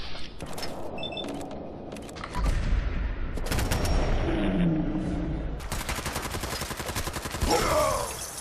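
Warlord minigun from Fallout 4 letting loose in heavy, dense bursts of rapid gunfire, with a sustained roar near the start and another long rattling stretch toward the end, loud and close.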